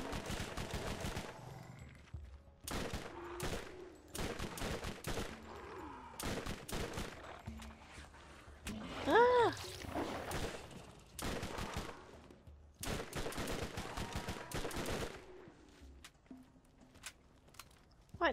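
Gunfire in the video game Borderlands, with repeated bursts of loud sharp shots spread across the clip and brief gaps between volleys, plus a short high-pitched whine midway.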